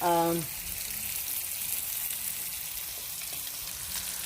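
Tilapia frying in a pan, a steady soft sizzle and crackle throughout, opening with a short voiced sound before the frying continues alone.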